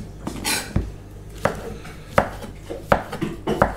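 Mushrooms and onions are cut into thin slices on a board, each knife stroke landing as a crisp, close thud in an uneven rhythm of about seven cuts, with no talking.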